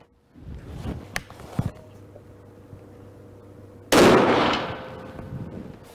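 A rifle shot at a shooting range with the target 100 metres away, a sudden loud blast after a stretch of quieter handling noise and a few small knocks, its roar decaying over about a second.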